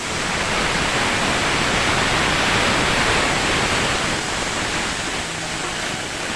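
Broth poured over rice in a cooking pot makes a steady, loud rushing hiss that runs unbroken from start to end, with no voices.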